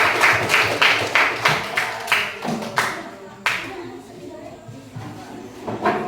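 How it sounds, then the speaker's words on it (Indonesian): Classroom applause for a student group during a micro-teaching lesson on informatics: a close, rhythmic burst of many hands clapping that gradually thins out and fades, with faint talk underneath. "tepuk tangan dulu untuk kelompok Ultraman"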